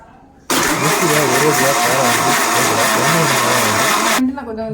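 A mixer grinder starts abruptly and runs at full speed blending banana with milk, giving a loud, steady whirring roar with a wavering motor tone that holds for about four seconds before cutting off.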